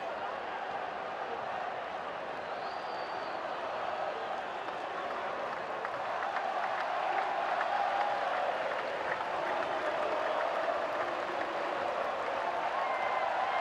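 A stadium crowd at a Costa Rica–Panama football match keeps up a broad, steady swell of applause and crowd noise, sustained and fairly distant, beneath a commentator talking.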